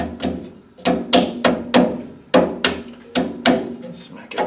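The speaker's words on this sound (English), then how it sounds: "Smack everything around a little bit. Make sure there's nothing loose." Coal stoker boiler parts are struck in a series of about ten sharp, loud metallic knocks at an uneven rhythm, each ringing briefly before the next hit.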